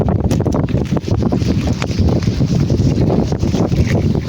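Strong typhoon wind roars and buffets the microphone continuously, with a deep rumbling gusty texture and faint splashing water underneath.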